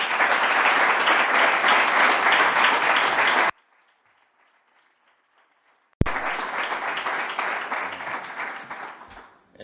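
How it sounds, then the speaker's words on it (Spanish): Audience applause greets a speaker at a history conference opening in Puertollano, a loud sustained burst of clapping that cuts off abruptly, pauses in near silence, then resumes just as strongly before fading slightly. "damos turno ya con un fuerte aplauso a don Miguel Fernando."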